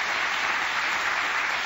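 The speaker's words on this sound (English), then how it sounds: "everybody's clapping for you" A television talk-show studio audience applauds in a dense, steady wash of clapping that stays loud and even throughout, with no voices rising above it.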